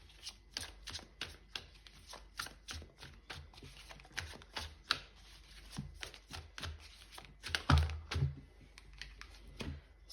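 Tarot cards shuffled by hand in a quick run of crisp riffling flutters, followed by a card drawn and set down with a louder soft slap near the end, close and alone without talk.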